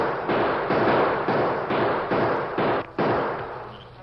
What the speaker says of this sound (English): they opened fire